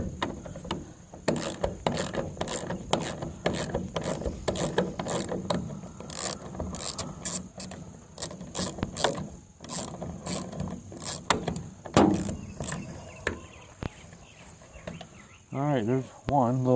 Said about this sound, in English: the whole idea is to get these bolts out